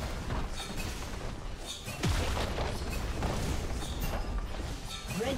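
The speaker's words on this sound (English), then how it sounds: "Red team's turret has been destroyed." A League of Legends turret falls in a top-lane game, heard as a loud booming crash with rumbling mechanical debris over dense, busy in-game combat noise, followed by sustained effects with no talk.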